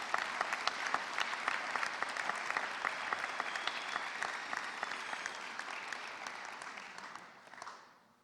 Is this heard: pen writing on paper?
no